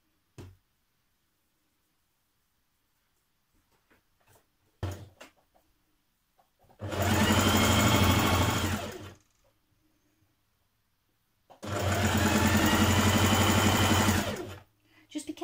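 Belt pieces for a Simplicity 8546 shirt dress are stitched on a sewing machine: two loud, close bursts of several seconds each, separated by quiet handling clicks and taps.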